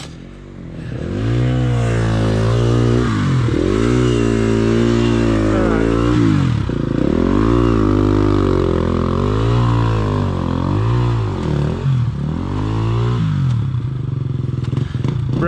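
Dirt bikes ride through snow at Big Bear, their engines loud and close with repeated revving that rises and falls in pitch across several throttle bursts, a continuous roar throughout.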